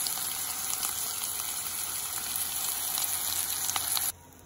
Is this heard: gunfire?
no